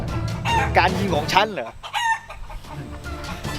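Chickens clucking and a rooster crowing loudly up close, the calls rising and breaking over a voice that talks across part of the clip.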